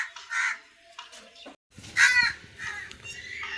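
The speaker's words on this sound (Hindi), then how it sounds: "अब कौओं की और चीरों की लड़ाई होगी।" Several crows caw outdoors in harsh, rasping bursts, some close and loud, others farther off, with short gaps between calls and faint rustling underneath.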